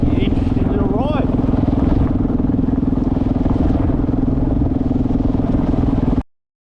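A motorcycle ridden along an outback road toward Karijini Drive, its engine droning loud and steady throughout, with wind buffeting and clattering over it, then cutting off abruptly at the end.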